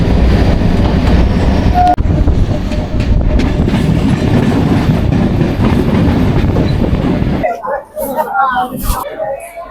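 A passenger train runs with a loud rumble and rhythmic wheel clatter for most of the stretch. The noise then drops away abruptly, leaving quieter sounds and voices.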